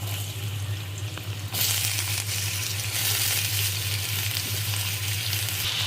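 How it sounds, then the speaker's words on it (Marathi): Potatoes sizzle steadily in a hot pan with spices, a loud continuous frying hiss that swells halfway through, with no voices over it. "आणि मी हे बटाटे फ्राय करून घेणार आहे।"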